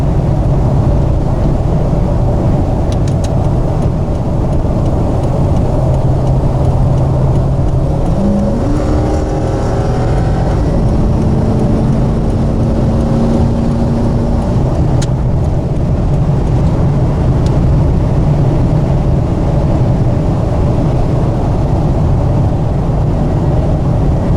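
A 2003 Toyota Tundra pickup accelerates hard to overtake at highway speed. From inside the cab, the engine drones steadily, then revs up through a couple of quick shifts before settling back into a constant road roar.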